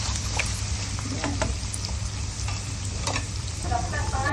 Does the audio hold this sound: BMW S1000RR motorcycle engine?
no